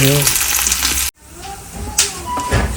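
Loud, dense sizzle of crushed chili and mustard seeds hitting hot tempering oil, cut off by a brief silence, then resuming with bubbling and crackling under a faint voice.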